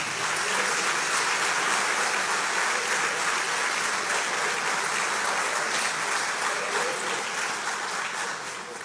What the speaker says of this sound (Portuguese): enquanto eu os apresento, por favor, aplaudam ao Senhor